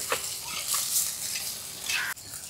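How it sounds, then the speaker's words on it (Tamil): Onions frying with ginger-garlic paste in a pot for fish curry, a close hissing sizzle with stirring scrapes, briefly cut short near the end. "வெங்காயம் நல்லா வதங்கிச்சு."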